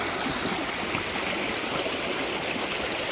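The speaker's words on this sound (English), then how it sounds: "More water from the waterfall." Water rushes steadily from a nearby waterfall on a trail feeding pastures, a dense, unbroken hiss that holds constant throughout with no voices.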